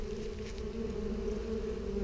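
Honey bees buzz steadily as they fly in and out of their hive, a dense, continuous drone that stays close and even in level for the whole stretch with no voices.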